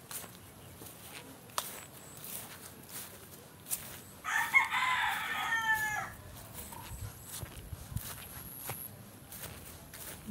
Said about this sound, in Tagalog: Yan ay mga manok.